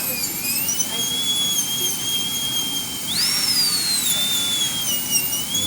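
A dental handpiece with a rounded diamond burr prepares a tooth for a full gold crown, a steady high-pitched whine that rises briefly in pitch as it cuts, set against background noise.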